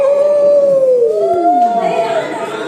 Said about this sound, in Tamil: இருட்டை பார்த்தவங்க எல்லோரும் சவுண்டு கொடுக்க ஆரம்பிச்சிட்டாங்க. அவங்க இஷ்டத்துக்கு கத்திக்கிட்டு போயிட்டு இருக்காங்க.